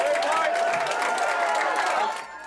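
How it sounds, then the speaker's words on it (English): Crowd applauding and cheering in a school gymnasium for a custodian receiving an award, steady dense clapping that tapers off at the end. "Hallways filled with applause and paparazzi, ushering him into the gymnasium for this major award."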